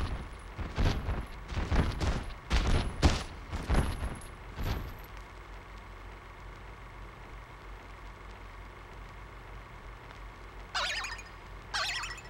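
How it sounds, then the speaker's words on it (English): Toy cannons in Kingdom Hearts II fire a rapid series of about eight loud booming shots over roughly five seconds, followed by quiet background ambience and two brief higher-pitched bursts near the end. "Hey, look at the toy cannons."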